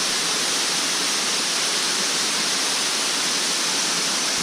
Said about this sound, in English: this is the first of the waterfalls, which is quite nice, as you can see.